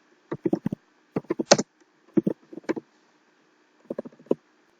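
Someone types a message on a computer keyboard: close, crisp key clicks in quick bursts with short pauses between clusters, no voices.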